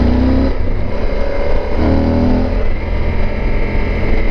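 A motorcycle being ridden on a winding West Virginia road makes a loud, close, continuous engine drone. The pitch dips briefly and rises again, with heavy wind rush and no talk.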